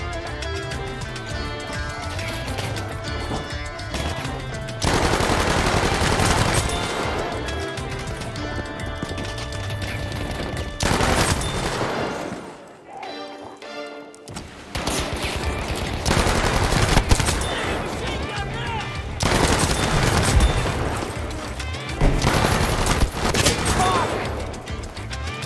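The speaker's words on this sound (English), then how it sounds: "The engagement ranges in this town hall are perfect for the MP28 and its hipfire." Rapid MP28 submachine gun hipfire in a Battlefield 5 town hall firefight, loud dense bursts layered with other gunfire and game noise, briefly dropping to near silence midway before the shooting resumes.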